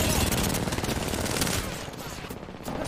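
Loud, rapid gunfire from the Apex Legends battle royale game, with sustained automatic bursts and overlapping shots that rattle on continuously before easing slightly toward the end.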